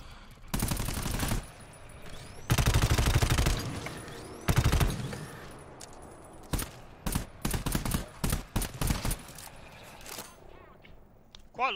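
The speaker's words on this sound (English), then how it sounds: "Quite liking the precision rifle" Precision rifle fire with a burst cannon frame in the co-op shooter GTFO: loud, sharp bursts of shots in several clusters, then quicker single cracks and short volleys, with quieter room ambience between.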